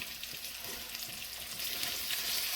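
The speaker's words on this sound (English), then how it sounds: "As you put the meat in, you know, it's going to cool the oil down." Beef pieces fry in hot oil in a beef stew preparation, crackling and sizzling steadily at close range, fairly quiet and unbroken, with no voices.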